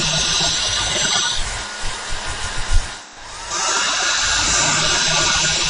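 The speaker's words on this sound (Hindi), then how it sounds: "अब इस हेयर ड्रायर को लाया," A small handheld hair dryer roars with a continuous broadband rush of blown air, close and loud, briefly dropping in the middle before resuming steadily.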